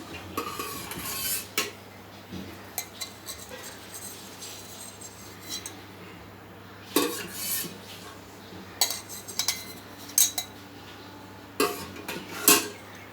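A steel glass being greased with oil before making glass idli: scattered light metallic clinks and scrapes, close and fairly quiet, coming in irregular bursts between pauses, with no talk.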